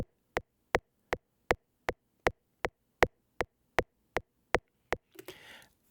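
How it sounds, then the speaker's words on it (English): A metronome click track ticks with sharp, evenly spaced clicks, about thirteen in a steady tempo, close and clean, followed by a brief rustle at the end. "It is a ticking sound at a specific beats per minute setting"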